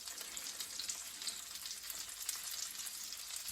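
Hake fillet pan-frying skin-side down in butter on a hob at full power, giving a steady, close, dense sizzle with faint crackles throughout and no voices.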